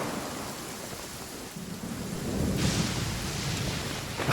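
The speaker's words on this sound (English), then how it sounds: "Have I told you guys how much I hate lightning in this game?" Thunderstorm in Genshin Impact, steady rain hissing throughout while a deep rumble of thunder swells midway and rolls on loudly, then a sharper crack near the end; no talking.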